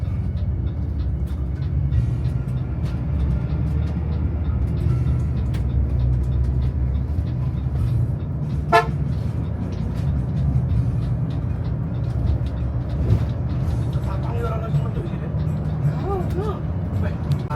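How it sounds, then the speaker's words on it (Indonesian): Heavy trucks crawl slowly along a hilly forest road in Baluran, their low engine rumble steady and continuous beneath someone talking throughout. "Jadi truk-truk grandong kayak gini nih pasti semakin lelet jalannya."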